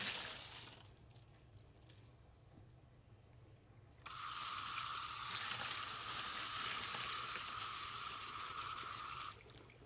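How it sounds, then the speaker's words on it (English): Tumbled rocks being rinsed with water after a burnish cycle: a steady hiss of spraying water starts partway through and runs loud and constant, then cuts off near the end, over a low background hum. "after that burnish cycle, we are going to rinse these off again"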